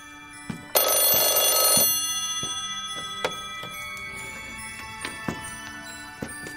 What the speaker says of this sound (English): Whenever Sonoma calls me on this phone, he has something important to tell me.